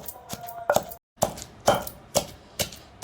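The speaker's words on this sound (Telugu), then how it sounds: "తెల్లగడ్డ కూడా బాగా మెదిగి దాకా దంచుకోండి" Garlic pounded in a mortar for a green chilli tomato chutney, heard as close, steady, rhythmic thuds about every half second with a brief pause early on.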